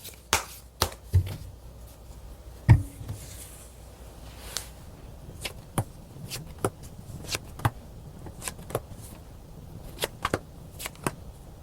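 Tarot cards are shuffled and drawn close up, heard as soft riffling followed by a series of crisp, separate card snaps and taps spaced irregularly, with no talk.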